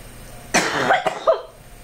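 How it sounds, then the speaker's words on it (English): A person gives a short burst of two or three harsh coughs close to the microphone, with a quiet pause before and after. "Excuse me, I got a cough again."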